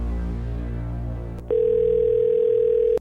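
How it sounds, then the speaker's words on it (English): Telephone call placed live on a radio show: a low hum gives way to a steady, loud single-pitch dial or ringback tone lasting about a second and a half, then cutting off abruptly. "make sure you got your phone close by right now because we are about to call somebody"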